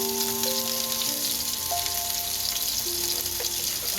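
Garlic cloves fry in hot oil with a steady, even sizzle that holds throughout, close by, while faint sustained tones sit in the background and nobody speaks.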